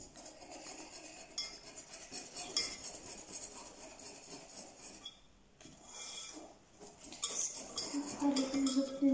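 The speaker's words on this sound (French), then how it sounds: "Après, vous prenez soit un fouet, soit une cuillère et vous remuez." Crêpe batter being stirred with a whisk or spoon in a bowl, giving close, continuous clinking and scraping of utensil against dish with brief pauses and no talk.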